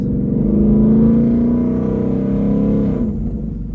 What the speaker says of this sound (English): That's the thing with the car running.